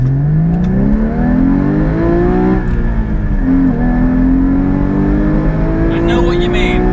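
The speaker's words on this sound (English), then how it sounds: "Let's see if we can just get some acceleration on this car." A manual Porsche GT3 or GT4 pulls away hard from first gear, its engine note climbing steadily loud and close, a brief dip at a shift, then rising again through continuous revving with faint talk underneath.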